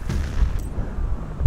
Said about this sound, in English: That was a nice grenade they had there